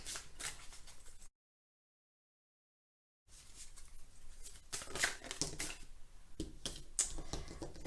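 Oracle cards are drawn and shuffled from a deck, with soft close rustles, flicks and small taps before and after a short silent gap.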